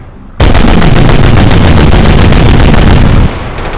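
Rapid machine-gun and rifle fire from the Company of Heroes modern combat remake, a loud dense burst of rattling shots lasting about three seconds before cutting off, with no talk over it.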